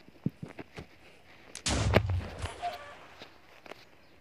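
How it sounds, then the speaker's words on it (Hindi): In a video game, a few light taps and clicks, then one loud, sudden explosion with a rumbling tail that fades over a second or so. "तो इसने लगभग काफी अच्छा ही धमाका किया है।"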